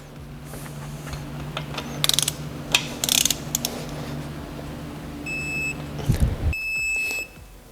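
A hand ratchet clicks in short bursts while tightening Hemi cylinder head bolts on an engine, followed by the beeps of a torque wrench signalling its angle pass, close by with a steady hum underneath.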